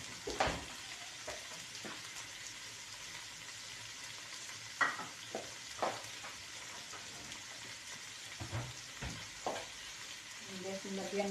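Vinegar goes into food sautéing in a pan, and a soft steady sizzle rises and carries on, with scattered clinks and scrapes from utensils and a faint voice in the background.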